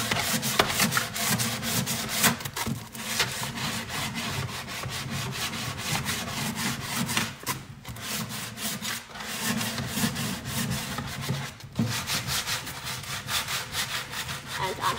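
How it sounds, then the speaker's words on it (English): 100-grit sandpaper is rubbed by hand, pressing hard, across painted fabric over wood, making a continuous close, rough scratching in quick back-and-forth strokes with brief pauses. "I'm going to sand."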